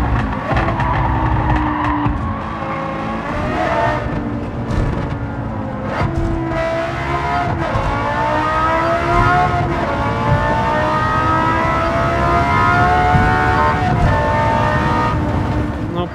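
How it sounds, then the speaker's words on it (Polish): Lexus car engine in Gran Turismo 7 on a highway lined with panels, a steady loud drone with rising and falling harmonic pitch through gear changes, tyre noise underneath, running continuously without talk. "Przepięknie ten Lexus brzmi"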